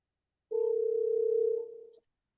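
A steady telephone dial tone hums clearly for about a second and a half on a call-in line, then fades out, with no talk over it.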